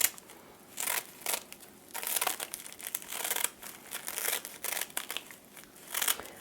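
Kitchen scissors snipping thin strips from a folded sheet for a deconstructed sushi bowl, a run of crisp crinkling cuts in irregular bursts, close and fairly quiet with no talk.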